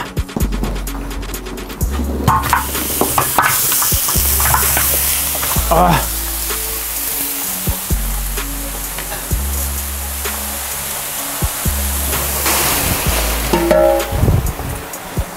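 Meat hits hot oil in a heated kazan over an open fire and sizzles loudly and steadily throughout, with stirring scrapes and clatters and brief voices in the background.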